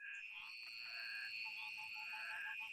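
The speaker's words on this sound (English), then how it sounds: "flat back toads" Flatback toads give a quiet, continuous chorus of trilling calls that overlap without a break and sound moderately distant.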